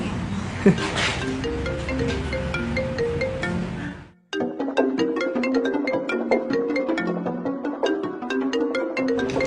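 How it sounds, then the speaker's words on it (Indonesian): A phone ringtone plays as a continuous melodic electronic tune, loud and close, briefly cutting out and then resuming, in a home scene from an old Indonesian TV film. "itu ada telepon kok nggak diangkat sih?"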